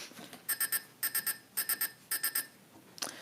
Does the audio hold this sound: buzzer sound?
yes